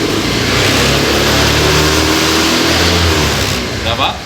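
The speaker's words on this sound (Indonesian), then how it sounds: "Sekarang saya gas." A carbureted Honda Vario motorcycle engine with an overcharging electrical fault revs hard, a loud steady roar held close for several seconds before easing slightly at the end.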